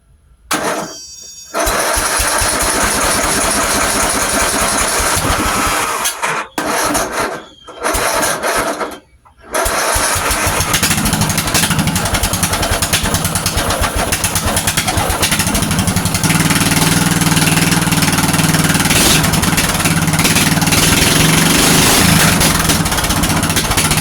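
A motor-swapped racing mower engine starts on a cold morning after choking, then idles and revs as the throttle is adjusted, loud and close with brief dips early on before running steadily.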